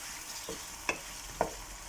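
Chicken frying in a karahi, a faint steady sizzle with two sharp metallic spoon knocks against the pan.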